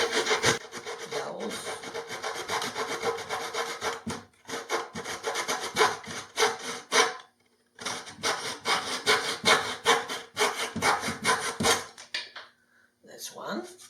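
A hand saw cuts off excess wooden dowels on a woodworking bench in quick, rasping back-and-forth strokes. The sawing comes in several close, loud bursts separated by brief pauses.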